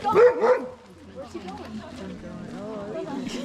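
A sled dog in the snowy Denali area gives a few short yips and barks up close, loud at the start and then fading under ongoing background sounds.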